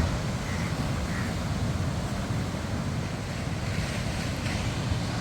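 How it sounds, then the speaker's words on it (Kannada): Sea waves crash steadily on the beach at Kundapura, a continuous loud roar of surf mixed with wind buffeting the microphone, with no talk. "ಎಷ್ಟು ಅಲೆಗಳು ಚೆನ್ನಾಗಿ ಬರ್ತಾಯಿದ್ದಿಲ್ಲ"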